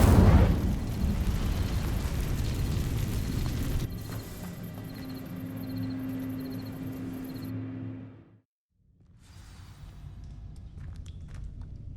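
Incendio fire spell cast in Hogwarts Legacy, a dense roaring fiery burst that fades into a lower crackling rumble, cuts to near silence, then returns as quieter ambience.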